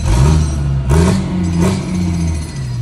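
A car engine revs loudly on loose gravel with pebble rock, a steady close throttle drone rising in brief surges, with no talking.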